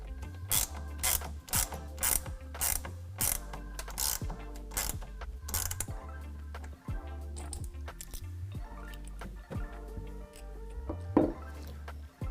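A TruXedo Pro X15 tonneau cover rail clamp is tightened on a 2022 Ford Maverick truck bed, giving repeated close ratcheting clicks in short bursts with brief pauses between strokes.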